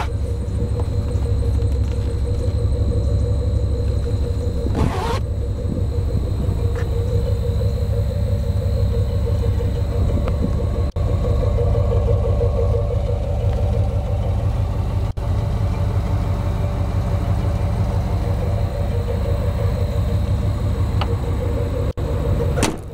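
A 1998 Jeep Grand Cherokee engine runs at a steady idle, a continuous low rumble heard up close with no voices.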